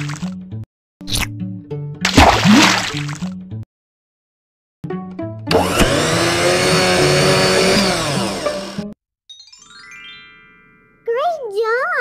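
A blender whirs loudly for a few seconds as it blends fruit into a smoothie in a children's learning game, set among short musical jingles, tinkling chimes and cartoon sound effects.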